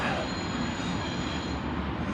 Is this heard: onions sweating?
no